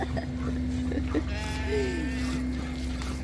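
A sheep gives one wavering bleat amid a farm feeding at grain time, heard over a steady low hum with some faint movement and background voices.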